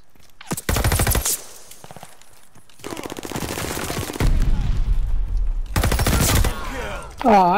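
Loud bursts of automatic gunfire from Call of Duty free-for-all play, several rapid rattling volleys separated by brief gaps, with a final burst at the end and no talk over them.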